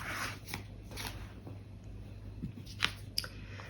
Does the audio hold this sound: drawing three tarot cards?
yes